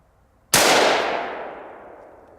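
A single loud, sharp report from a Colt M4 rifle firing Black Hills 77-grain green-tip ammunition. The crack rings out and decays slowly over about two seconds, heard close and alone.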